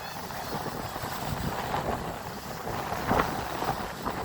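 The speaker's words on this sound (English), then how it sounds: "It's windy out here." Gusty wind buffets the microphone outdoors, a steady broadband rush with a few stronger bursts, no talking.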